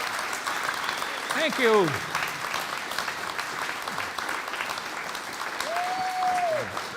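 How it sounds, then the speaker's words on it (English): Sustained audience applause fills the room, a steady dense clatter of many hands, with someone briefly speaking over it near the end. "Let's give one more round of applause to these gentlemen for their time."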